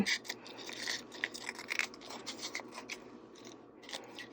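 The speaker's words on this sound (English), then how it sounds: "So you can cut whatever shapes you would like into your coffee filter" Scissors cutting shapes into a paper coffee filter, a quick run of soft, close crunchy snips over a faint steady background hiss, with no talking.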